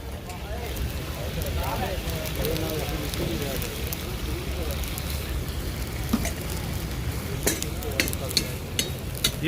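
Dumba karahi sizzles hard in a wok at a roadside truck-stop food stall while it is stirred, with a constant frying hiss broken by sharp metallic scrapes and clinks. Voices murmur faintly underneath.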